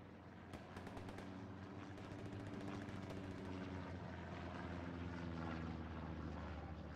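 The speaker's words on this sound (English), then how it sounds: "this again is a recon plane, this time for the allies" An allied recon plane passes overhead in the military shooter Squad, a steady propeller drone that holds loud and even throughout, with faint distant gunfire crackling beneath it and no voices.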